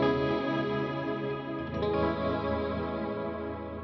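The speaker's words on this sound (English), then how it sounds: "I have this gray flanger in here and also the bleat" Electric guitar run through a gray flanger and a bleat chop trim effect on a Line 6 HX Stomp, a sustained swirling, sweeping chord with warbling modulation, steady and fairly loud with no talk.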